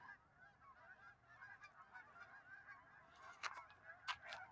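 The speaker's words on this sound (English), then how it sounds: "You could hear the geese echo" A flock of geese honking at a lakeside park, repeated overlapping calls that ring and echo across the open space, moderately distant, with a couple of louder honks near the end.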